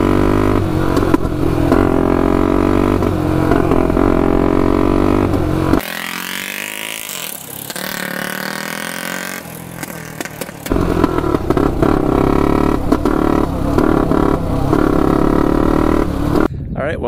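Turbocharged Honda 400ex ATV engine revving hard, then cutting out when boost arrives, with a loud buzzing engine, a sudden drop and a sputtering lull before it picks back up, under wind and some talk.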